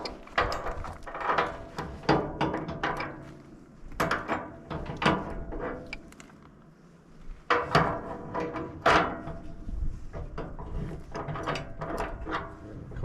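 Wrench tightening a loose bolt on a snowplow attached to a tractor, heard as bursts of metallic ratcheting clicks and clanks in uneven groups, close by and moderately loud, with pauses between bursts.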